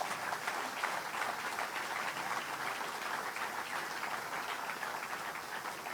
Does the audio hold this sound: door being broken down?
no